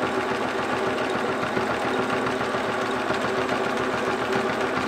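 A Bernina 1030 sewing machine runs a stretch stitch on denim, giving a steady, quiet mechanical whir with a fast even chatter that holds unbroken throughout.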